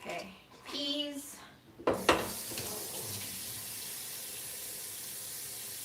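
Water is poured from a tap into a pot of overnight-soaked peas, a steady rushing splash that follows a few brief clinks of kitchenware and carries on to the end.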